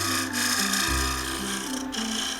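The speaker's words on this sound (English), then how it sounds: "Beautiful little tiny thin ultra fine shavings, getting that shearing scrape absolutely beautiful." A hand scraper shears ultra-fine shavings from a red ironbark wooden bowl on a lathe, giving a continuous close rasping hiss over the steady low hum of the spinning machine.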